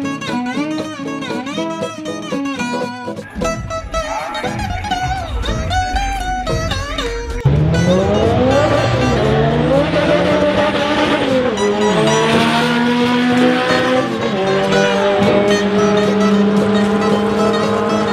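Cars drag racing at a Honda car meet in Seattle: steady engine roar with high tire squeal, then a louder car revving up in rising and falling pitch, close and continuous with no talking.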